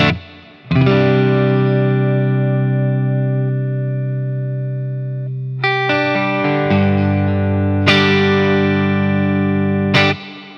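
An electric guitar played through a GrandMeister DLX 40 amp with reverb added rings out in sustained chords that decay slowly, with a few fresh strums near the end, loud and close with a lingering wash of reverb.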